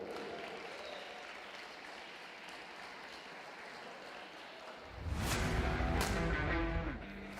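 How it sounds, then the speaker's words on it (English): Audience applause at a robotics competition for the winners of a humanoid robot sumo event, faint and distant at first, then swelling into a louder, closer burst of clapping near the end. "let's get another round of applause here for the winners of Humanoid Sumo"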